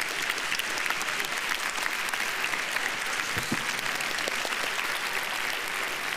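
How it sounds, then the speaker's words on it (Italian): Audience applause after a speech at an Italian event, a steady dense clapping from a large crowd that holds evenly throughout, loud and close, with no talk over it. "Applausi."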